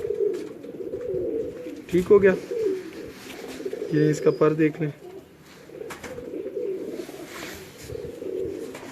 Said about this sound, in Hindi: ये देखें जी, ये कबूतर हैं